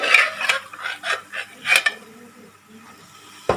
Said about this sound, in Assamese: এতিয়া মই এই আলু আৰু কাবুলী আৰু মটৰখিনি মই পানীৰ পৰা কাঢ়ি এনেকৈ দি দিছোঁ